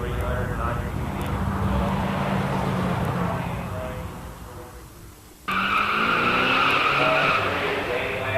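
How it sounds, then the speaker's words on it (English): A 6-barrel Plymouth Roadrunner makes an easy drag strip run amid loud race track noise, engine roar swelling then shifting abruptly midway, with a crowd and announcer's voice mixed in. "Van Hook strokes the big 6-barrel Roadrunner through nice and easy"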